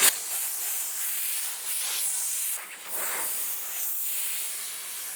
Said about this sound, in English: You can see I'm well into the steam cleaner today.